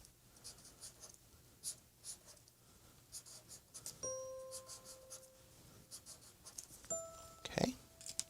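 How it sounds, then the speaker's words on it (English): A purple marker draws shapes on paper, giving soft scratchy strokes in short bursts, close and quiet, with a couple of brief ringing tones partway through. "I'm going to start with a purple marker, and I'm going to draw different shapes on the circle."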